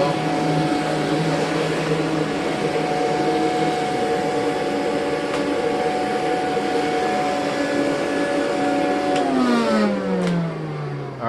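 A VacLab vacuum cleaner runs steadily and loud up close, a sustained motor whir with a stable tone, then near the end the pitch sweeps downward as the motor winds down.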